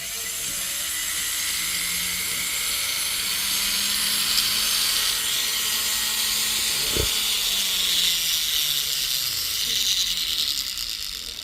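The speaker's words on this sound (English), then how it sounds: "go ahead and clean it up a little bit with our silicone wheel" A rotary tool spins a silicone polishing wheel against a broken jewelry chain, giving a steady high-pitched whine with grinding hiss, continuous throughout and fairly close, with a brief click near the middle.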